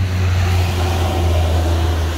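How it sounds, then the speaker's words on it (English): A truck passing on a road beside a bush hiking track, a loud steady low engine roar and tyre rumble close by, continuous across the moment. "Truck."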